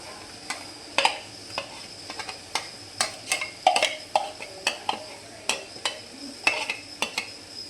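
A spoon stirring crushed amaranth greens and urad dal batter in a metal pot, producing repeated close scraping clinks against the sides at an uneven rhythm of roughly one stroke every half second, alone without talk.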